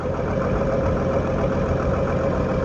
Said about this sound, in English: a little naturally aspirated engine, it starts pretty easy